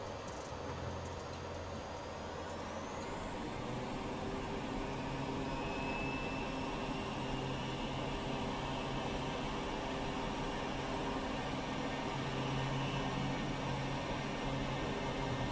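Bush plane engine running at full takeoff throttle in a flight simulator game, a steady, loud, continuous drone with rising whine that holds level throughout with no speech.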